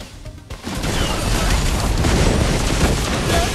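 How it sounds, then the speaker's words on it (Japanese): Explosion in the video game Higan: Eruthyll, a dense, loud, sustained blast with crackling debris that fills the clip after a brief quieter start. "爆発！"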